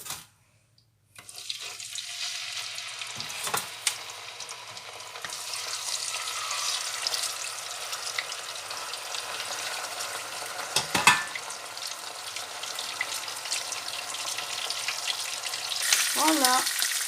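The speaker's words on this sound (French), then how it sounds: "On va cuire notre dorade. Je l'ai coupé en deux." Halved sea bream sizzles steadily in a hot pan on the stove, a continuous close frying hiss with brief clatters of handling, running alone without talk.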